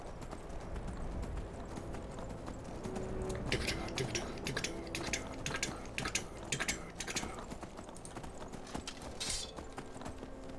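Horse hooves clip-clop in a steady trotting rhythm in the Skyrim video game, crisp and fairly close over a low ambient game background.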